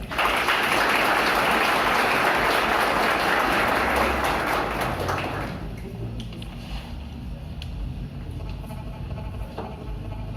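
Loud, dense applause from an audience welcoming a speaker at a Spiritist week event in Irecê, thinning out after about five seconds into scattered claps and room noise.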